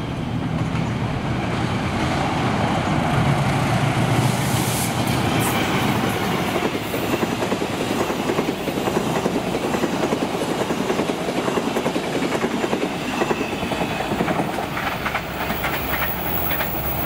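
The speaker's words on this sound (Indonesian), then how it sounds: "Lalu ini kereta api Airlangga 7050A." Indonesian Airlangga 7050A economy passenger train passing close by, a loud continuous rumble with rhythmic clickety-clack of wheels over rail joints throughout, no voices.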